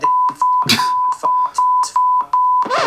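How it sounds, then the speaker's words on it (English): A 1 kHz censor tone bleeps repeatedly over profanity in a chatty reaction conversation, with short pitched beeps alternating with bits of speech in a choppy rhythm. "That's a lot to beep out."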